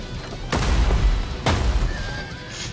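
Horses neighing amid a medieval battle in Medieval Kingdoms Total War, with two loud, sharp booms and whinnying over a constant battle din.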